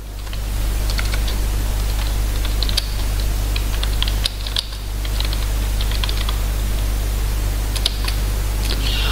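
Close, continuous clicking of computer keyboard keys in irregular bursts, with a brief pause midway, over a steady low electrical hum, with no talk.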